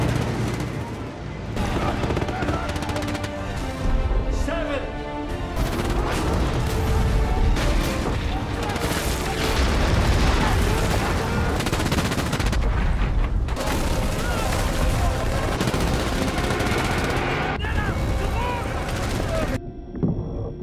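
Dense, continuous World War II film battle noise with rapid gunfire and heavy booming blasts, loud throughout, layered with dramatic music and effects, briefly dropping out near the end.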